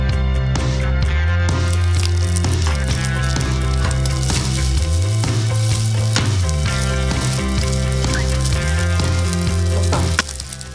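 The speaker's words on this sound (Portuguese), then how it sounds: "E aí coloco o guanciale aqui dentro e vou dar aquela dourada." Chunks of guanciale frying in a drizzle of olive oil in a frying pan: a loud, continuous close sizzle throughout, with steady tonal music playing over it.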